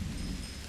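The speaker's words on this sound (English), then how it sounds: "I like the rain though." Rain hisses softly and steadily in the Dead by Daylight video game, a faint continuous wash over a low rumble.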